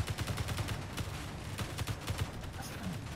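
Rapid gunfire in the multiplayer game Space Engineers during a starship boarding fight, a fast steady series of sharp cracks at moderate distance, fairly quiet throughout.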